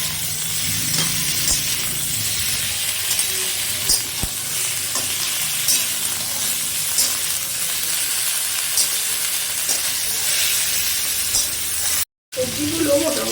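Cauliflower florets and mixed vegetables frying together in a pan give a steady close sizzle and hiss that runs almost without a break, with faint stirring and scraping. Near the end the sound cuts out for a moment.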